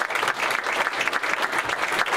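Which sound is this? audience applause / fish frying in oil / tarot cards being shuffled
audience applause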